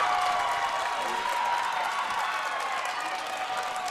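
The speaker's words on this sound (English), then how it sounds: "The crowd is fired up for Scottsburg." Crowd cheering and applauding at a high school volleyball match, Salem versus Scottsburg in a tight third set, a steady dense roar of voices and clapping held for the whole stretch.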